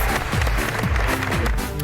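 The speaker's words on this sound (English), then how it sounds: "Fake applause." Fake applause sound effect played during a storm-themed quiz show, a dense burst of clapping and cheering noise lasting under two seconds, loud and close.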